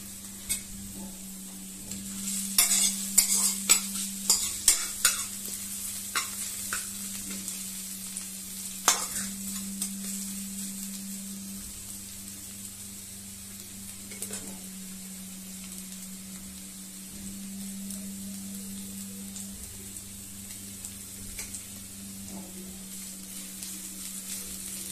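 Onions fry in a pan on a home stove while being stirred, with scraping stir strokes crowding the first ten seconds over a steady sizzle that runs throughout, no talk.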